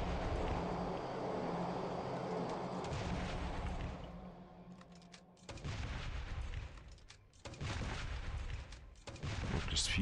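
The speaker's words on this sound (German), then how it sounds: "schnell hier mit der Melkor um uns ballern" Melkor gun fire in the Last Day on Earth video game, heavy booming game gunfire in bursts with brief gaps between volleys, no talk.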